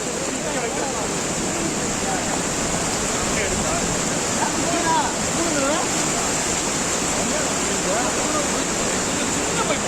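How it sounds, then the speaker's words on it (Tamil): Chinnasuruli waterfall in sudden flood roars loud and unbroken, a dense rushing wash of floodwater, with voices faintly audible beneath the torrent. "சின்னசுருளி அருவியில் திடீரென வெள்ளப்பெருக்கு ஏற்பட்டது"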